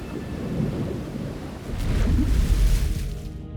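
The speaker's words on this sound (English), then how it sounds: "This giant pump is one way Grand Forks is successfully fighting the floods" A giant flood pump works against rising river water in Grand Forks, North Dakota, a heavy low rushing roar of churning water that swells louder midway and then eases off.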